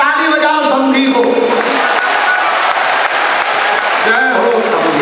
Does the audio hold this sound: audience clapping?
yes